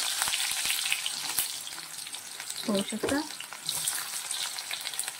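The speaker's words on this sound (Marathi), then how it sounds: "जिरे मोहरी तडतड झाल्यानंतर आपल्याला 5 ते 7 पानं कढीपत्त्याचे घालायचे आहे आणि फोडणीपुरता बारीक कट केलेला कांदा घालायचा आहे" Finely chopped onion fries in a hot tempering of cumin, mustard seeds and curry leaves, giving a steady, soft sizzle throughout, with a brief voice speaking midway.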